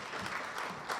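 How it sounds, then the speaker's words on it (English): Steady audience applause at an awards ceremony for a performer, a continuous wash of clapping at moderate distance with no break over the brief moment. "You can clap for her."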